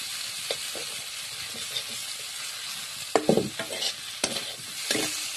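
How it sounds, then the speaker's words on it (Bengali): Tomatoes are stirred in a cooking pan over a constant frying sizzle, with scraping and clattering strokes of the utensil growing louder and busier toward the end, and no voices. "ভালো করে নেড়ে নেব। টমেটোগুলোকে একটু ভালো করে করে নেব।"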